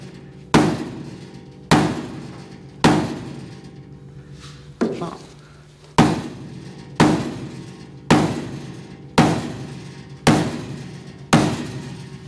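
Hammers striking sheet metal on a K5 Blazer, about ten loud, sharp metallic bangs at a steady interval, each ringing briefly before the next; speech is faintly present.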